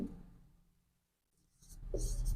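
Chalk writing on a board during a Class 10 maths lesson, faint scratchy strokes that fade to near silence and then return as louder, rapid scraping.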